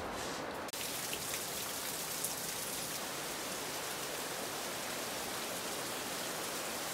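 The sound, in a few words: heavy rain on a tiny house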